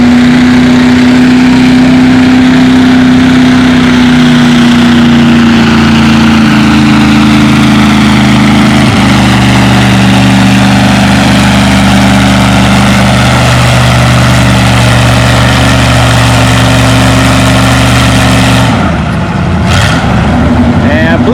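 A tractor-pulling tractor with a stock engine, turned-up manifolds and stainless exhaust pipes roars loudly and steadily, its pitch stepping down partway through a long pull before easing off near the end, with an announcer faintly underneath.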